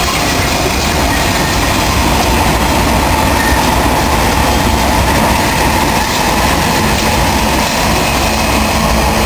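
A loud freight train with mid-train helper locomotives rumbles past close by at the Tehachapi Loop, a continuous heavy roar of rolling wheels and rail noise with faint clacking, no voices.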